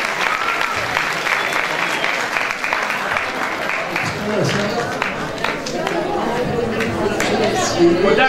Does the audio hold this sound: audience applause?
yes